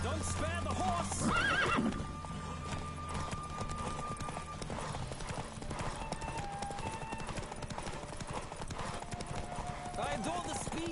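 A horse whinnies loudly near the start, then hooves keep galloping in a fast, steady rhythm while someone speaks over the running, in the video game The Witcher 3.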